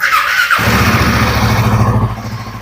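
A Royal Enfield Guerrilla 450 motorcycle idles nearby with a loud, steady, throbbing exhaust rumble that eases slightly toward the end.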